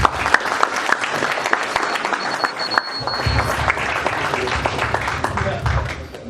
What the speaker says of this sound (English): One more time, applause.